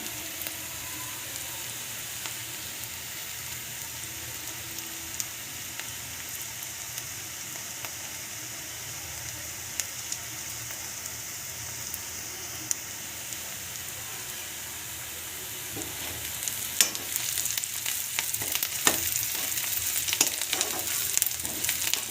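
Onions sizzle and fry in a pan for mung dal, a steady soft hiss that grows louder and crackles more near the end, with occasional stirring scrapes.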